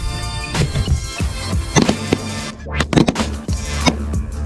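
Shotgun blasts fired at geese during a goose hunt, several sharp reports in quick succession amid busy outdoor noise, close and loud.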